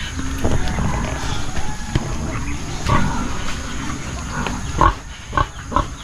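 Pigs grunt and squeal in bursts over a steady background hiss, with a few louder snorts near the end.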